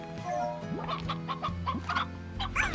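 Chickens in the video game Slime Rancher cluck in quick, uneven bursts over a steady electronic game hum, fairly soft and with no speech.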